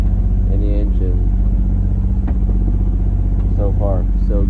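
A sailboat's diesel engine runs steadily while motor sailing, a low constant throbbing drone close by, with a person talking over it.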